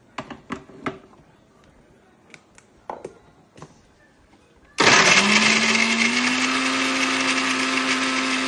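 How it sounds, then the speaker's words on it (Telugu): Several light taps and clicks come first. Then a mixer grinder roars on loudly with small coconut pieces and coriander inside, holding a steady, harsh whirring grind to the end. "కొబ్బరి కూడా ఇలా చిన్న ముక్కలు చేసుకొని వేసి 2 కలిపి మిక్సీ పట్టాలండి"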